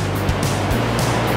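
River water rushes through Elora Gorge, a loud, continuous roar of flowing water with surging swells and no voices.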